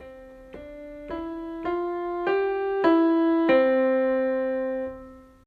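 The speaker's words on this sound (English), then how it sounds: "A crescendo sounds something like this." A sustained melodic phrase of rising notes grows gradually louder from soft to strong, then holds and fades out at the end.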